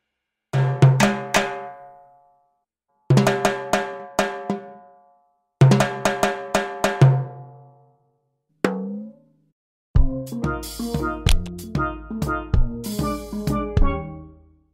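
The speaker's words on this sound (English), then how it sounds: "Timbales." Timbales are played in rhythmic groups of sharp metallic strikes with ringing overtones, separated by short silences, then a faster, denser pattern of hits at the end, loud and close.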